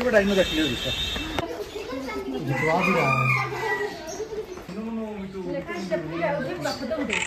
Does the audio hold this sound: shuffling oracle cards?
no